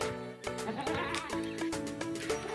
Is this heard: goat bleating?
yes